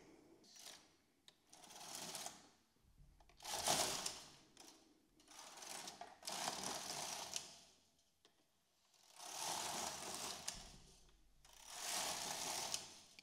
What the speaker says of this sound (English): Knit 4 more rows.